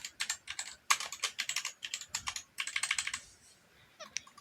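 Rapid keystrokes on a GK61 60% mechanical keyboard, a dense run of crisp, close clacks with a brief pause before a few final taps.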